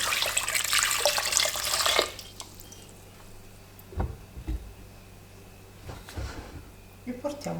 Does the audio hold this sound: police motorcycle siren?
no